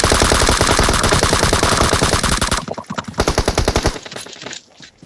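Rapid automatic gunfire in PUBG Mobile, a loud sustained burst of dense shots that breaks into sparser, separate shots before fading.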